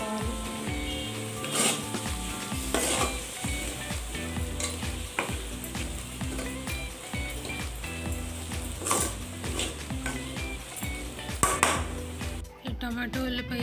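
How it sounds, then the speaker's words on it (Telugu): Onions and tomatoes fry in a pan for egg fried rice, giving a steady close sizzle broken by scraping, clattering stirs throughout. "దీనిలో 1/2 కప్పు టమాటాలు వేసుకొని బాగా ఫ్రై చేసుకోవాలి"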